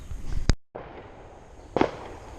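Fireworks on the 3rd of July: two sharp, loud bangs about a second apart, the second with a brief crackling tail, over a low background hum.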